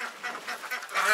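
A quick burst of nasal quacking from ducks close by in a duck house, several overlapping calls over about a second.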